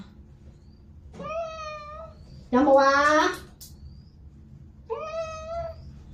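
A ragdoll cat meows during a bath, two clear drawn-out meows a few seconds apart, close and moderately loud, with a brief loud burst of voice between them.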